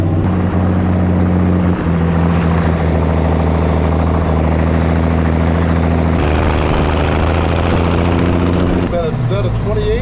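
The M4 tank car, a 6x6 vehicle, drives off road with a loud, close, heavy engine drone that holds steady and shifts pitch a few times, while people talk over it.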